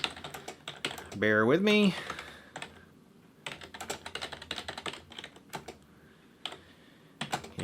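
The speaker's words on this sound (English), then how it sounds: "give me a moment to type in this latest access list command" Rapid keystrokes on a computer keyboard come in irregular bursts while entering a router access list command for a CCNA lesson, close and clear, with brief spoken remarks over the typing.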